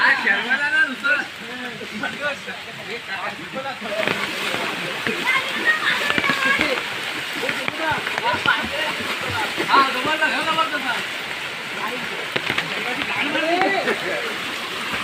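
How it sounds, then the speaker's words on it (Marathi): Rain dripping through the trees onto water at a jungle swimming spot in the monsoon, a constant near splashing and patter with people talking over it. "पाऊस आला आहे बघा वरती आहे बघा त्याचा पाऊस टेमटेम पडतो"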